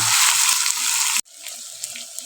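Chicken sizzles loudly in an open pan as its released water cooks off, a dense steady hiss that cuts off abruptly midway, leaving a quieter, sparse crackle afterward.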